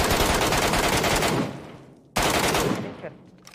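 Two loud, close bursts of M4 rifle fire in PUBG, each a rapid automatic rattle lasting over a second before trailing off into echo, the second burst starting after a short gap.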